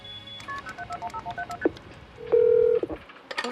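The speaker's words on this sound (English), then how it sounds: "I picked up the phone and I dialed 911." Touch-tone telephone keypad dialing 911: a quick series of short DTMF beeps over low room noise, followed by a longer steady tone near the end, close and clear.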